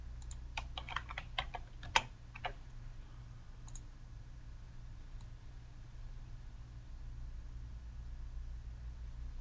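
Keys on a computer keyboard clatter in a quick burst of close, crisp clicks while a quiz title is typed. A few stray taps follow before the clicking gives way to quiet room hiss.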